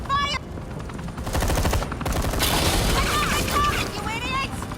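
Sustained police gunfire in the video game Batman: The Enemy Within, a loud, rapid rattle of shots lasting several seconds with a few voice lines around it.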